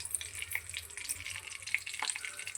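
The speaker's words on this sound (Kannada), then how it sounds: "ಈರುಳ್ಳಿ ಫ್ರೈ ಮಾಡ್ಕೊಳ್ಳೋಣ." Sliced onions sizzle and crackle in hot oil for a naati-style chicken curry, a steady close frying hiss with scattered pops and no talking.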